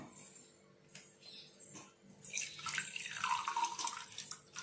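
Soaked urad dal water is poured off and drains into a tumbler in a home kitchen. It makes a soft, trickling splash that starts partway through and runs steadily to the end over quiet background hum.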